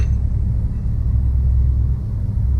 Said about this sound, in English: I heard a car coming out of here